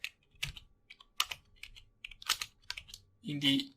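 Someone types on a computer keyboard: close, fairly quiet clicky keystrokes in irregular bursts with short pauses, ending in a quick cluster of presses.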